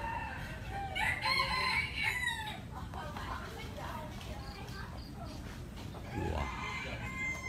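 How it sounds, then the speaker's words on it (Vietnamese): Roosters crowing in a garden on a morning in Cần Thơ, Vietnam. Several crows ring out at a moderate distance over a noisy outdoor background, with people talking nearby. "nghe tiếng gà tức là thấy đã mà."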